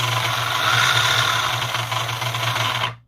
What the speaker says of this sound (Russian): То есть один мотор крутится с одной скоростью, а второй либо быстрее, либо медленнее.